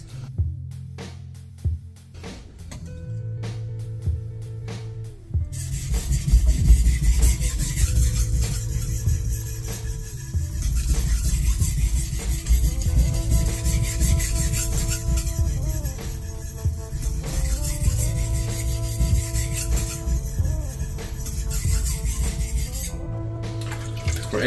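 A single bevel knife is worked back and forth on a wet whetstone, a gritty, rhythmic rasping that grows louder midway, with faint tonal background sounds underneath.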